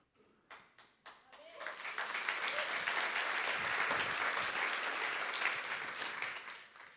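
A few isolated claps open, then a church congregation breaks into full applause that swells and holds for several seconds before easing slightly, with voices mixed into the crowd.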